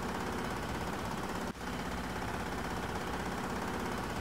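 Rumbling, grinding machine noise of an oil drill's metal-toothed bit breaking through rock layers in a 1996 CD-ROM toyshop game, a steady dense roar with one brief dip midway.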